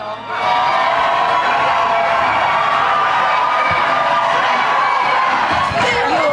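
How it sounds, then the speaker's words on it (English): A large crowd boos and hisses at a heated rent-freeze gathering, a dense, continuous wall of voices that swells in and holds steady at a fairly loud level. "Booing and hissing."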